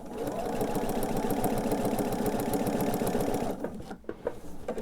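A sewing machine runs steadily at close range, stitching binding onto a quilt with a rapid even whir, then slows and stops into a few scattered clicks and handling sounds.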